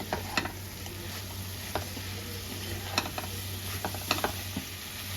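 Roasted ground spice stirred into a soybean curry in a pan, gentle sizzling under intermittent scraping and tapping strokes of a spoon, close and quiet with no talk.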